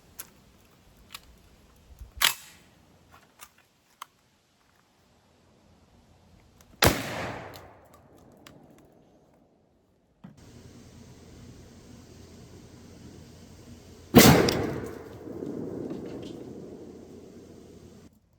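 A Winchester SX4 shotgun fitted with a Pattern Master Code Black choke fires Winchester Blind Side 3 inch #2 duck loads at a pattern target: three sharp, loud blasts spaced several seconds apart, each with a brief echoing decay, over low background hiss.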